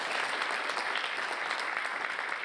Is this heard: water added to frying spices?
no